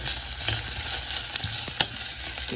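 Onions sautéing in a pan for vegetable biryani give a steady, close sizzle and crackle with a few sharp stirring clicks, and no voices are heard.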